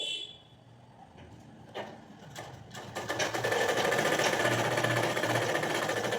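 A sewing machine stitches a folded seam, starting with a few light clicks and handling, then settling into a steady, close whirring run that holds to the end.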